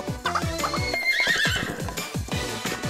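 A horse neighs in the video game Miitopia, a loud close whinny with a falling pitch, mixed with brisk clip-clop hoof beats and game music, no voices.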